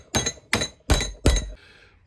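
Four evenly spaced, ringing metallic hammer taps strike a steel bar clamped in a vise to start a bend, part of building a fairground high striker ring-the-bell game; each hit is close and bright, with a short fading ring after the last.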